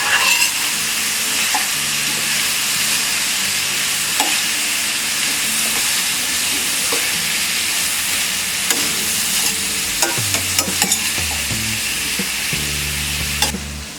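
Pumpkin sabzi sizzles loudly in a pan as spices are stirred in, with a constant hiss broken by scattered scrapes and clinks from the spoon.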